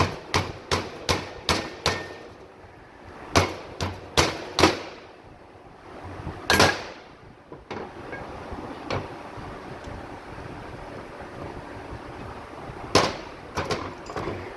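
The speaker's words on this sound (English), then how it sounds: "Ring gear fits very tight, so it may require a little gentle persuasion. Do not use a metal hammer. This one is a soft plastic hammer." A soft plastic hammer taps a tight ring gear into place on a Roxor Torq Locker, striking in quick bursts of sharp knocks separated by pauses, with a few more taps near the end.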